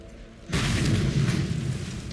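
An underground explosion in the Mad Max video game goes off after a short quiet moment, a sudden deep boom followed by a sustained loud rumbling roar.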